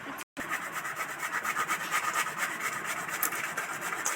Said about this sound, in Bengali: ছোট গ্রেটারে টমেটোটা গ্রেট করব